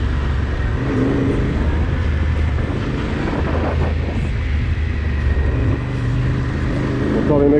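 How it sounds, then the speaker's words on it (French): Motorcycles gather at a bar, their engines producing a steady low rumble that rises and falls as they rev nearby, under people talking. "Encore les mecs en moto au bar."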